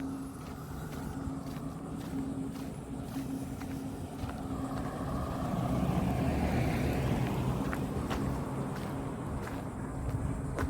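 A golf cart drives by on a quiet resort road, its low motor hum steady and fairly faint, swelling slightly midway as it passes, with no talking.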